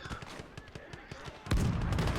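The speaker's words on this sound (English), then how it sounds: "We got double explosions coming in." Rapid crackling gunfire-like pops followed by a sudden, heavy explosion rumble, loud and booming, from a game soundtrack.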